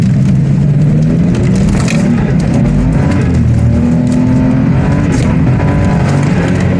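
A turbocharged Lexus GS300 revs hard while drifting uphill, its engine droning loud and continuous with tyre and road noise throughout, close up and without any talk.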